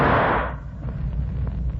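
A single loud gunshot in an old-time hard-boiled crime radio drama: a sharp, close blast that decays over half a second into a low rumbling tail, with no talk over it.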